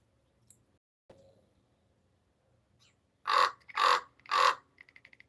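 A raven gives three loud, harsh caws in quick succession after a few seconds of near silence with faint clicks, followed by softer clicking sounds.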